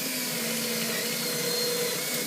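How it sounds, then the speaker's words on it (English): An electric drill fitted with a 6mm brad point bit bores 15mm into a piece of wood, giving a steady, continuous whirring whine with no pauses, close and moderately loud. "I've got a 6mm brad point piece, and I'm just going to go 15mm into each piece of wood"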